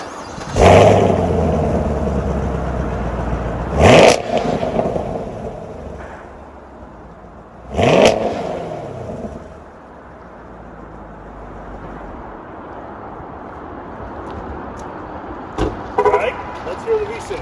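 A 2020 Chevrolet Camaro SS V8 fires up in track mode with sharp, loud starter-and-bark bursts, several separate revs spaced seconds apart, each settling into a deep rumbling idle, close to the listener.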